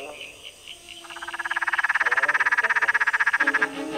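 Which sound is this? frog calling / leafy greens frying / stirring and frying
frog calling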